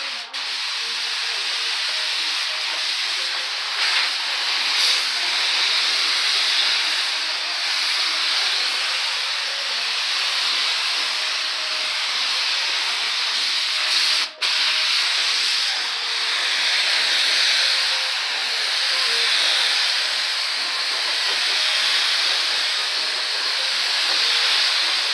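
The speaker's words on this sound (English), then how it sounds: "we're about to shoot the clear coat on there" Automotive spray gun laying clear coat over a car panel during a blend repair, a loud, close, steady hissing spray that runs almost unbroken, with one very brief pause near the middle and no voices.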